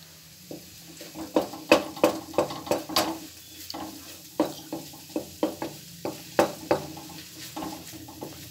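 Grated carrots for Punjabi-style gajar halwa roast in a pan, with a spatula scraping and stirring in repeated irregular strokes over a soft, faint sizzle, close and clear with no talking.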